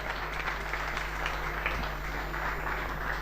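Applause from the audience after a live song at a music show, a muffled, continuous wash of clapping over a steady low hum, moderately distant and even throughout.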